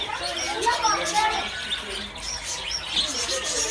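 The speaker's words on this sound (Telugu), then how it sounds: "పిట్టలు, పక్షులు ఉన్నాయి." Java sparrows and green parrots chirp in repeated short, bright calls over a steady murmur of crowd noise, the birds moderately close and fairly loud throughout.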